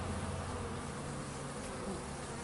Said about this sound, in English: A lot of these bees.